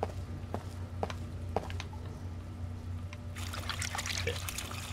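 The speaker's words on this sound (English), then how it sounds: "All right, we should wash our hands." Water runs and splashes at a sink as hands are washed in the video game Heavy Rain, a steady close trickle under a low hum, with a few clicks first and the flow swelling louder partway through.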